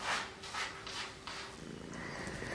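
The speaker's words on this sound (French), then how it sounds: "Il y a le chat qui est dans la litière" A cat moves about inside a litter box, its soft scratching and shuffling in the litter coming in several short bursts, then settling into a quieter rustle, close by with no talking.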